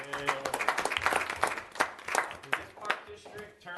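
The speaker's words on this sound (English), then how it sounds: "Stand up, round of applause for this guy" Applause from a board meeting audience honoring a fleet manager: a few seconds of uneven clapping mixed with voices talking over it.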